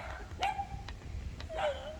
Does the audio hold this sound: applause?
no